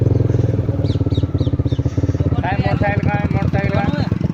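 A motorcycle with a flat tyre keeps running, its engine putting out a steady, close, throbbing drone. A brief higher chirping rises over it partway through.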